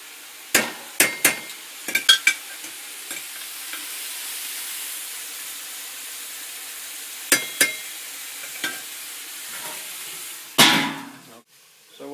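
Eggplant and zucchini frying in ghee, with a steady low sizzle throughout, broken by sharp scraping knocks of a spoon stirring against the pan, clustered near the start and again toward the end.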